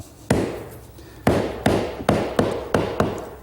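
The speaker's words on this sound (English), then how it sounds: "I set the point on the center hole and just drive it in with a mallet" A mallet drives a lathe drive center, with a center point and four spurs, into the end of a wood blank: six sharp, close knocks, the first alone and the other five in quicker succession.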